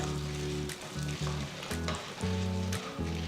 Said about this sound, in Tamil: கடாயில் ஒரு டேபிள் ஸ்பூன் எண்ணெயை ஊற்றுங்க நெக்ஸ்ட் ஒரு டீஸ்பூன் கடலைப்பருப்பு ரெண்டு டீஸ்பூன் உளுத்தம்பருப்பு சேர்த்து வறுத்துக்கோங்க